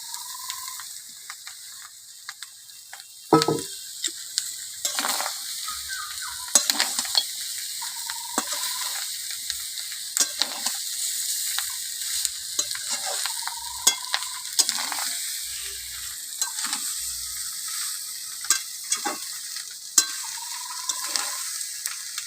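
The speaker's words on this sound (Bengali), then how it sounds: "ভালো করে কষা হয়ে গেছে এবার মাছের মাথাটা দিয়ে দেবো" A fish head is dropped into a pan of well-fried spices for a Bengali fish-head chorchori with fish roe and Malabar spinach. There is a steady sizzle, with clinks and scrapes from a stirring spatula at irregular intervals.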